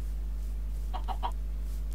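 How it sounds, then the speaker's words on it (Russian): A Minecraft chicken clucks in a short burst of about three quick clucks near the middle, fairly faint over a steady low game hum, with no talking. "И курица живая даже, смотрите"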